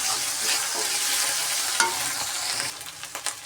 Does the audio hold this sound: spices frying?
yes